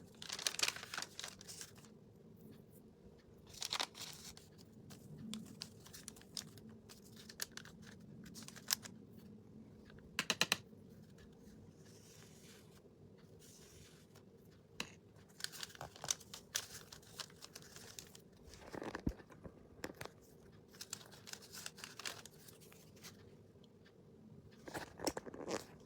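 Paper tearing for decoupage on a canvas bag, with repeated crinkling and ripping bursts spread through a quiet room, some short sharp tears standing out against a low background hum.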